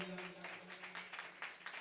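A crowd claps steadily in repeated bursts at a Jain temple palanquin procession, with a low hum and some voice-like tones beneath.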